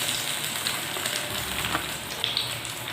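Chicken nuggets fry in hot oil in a pan, giving a steady, dense crackling sizzle with scattered pops that holds throughout at moderate volume, with no one talking.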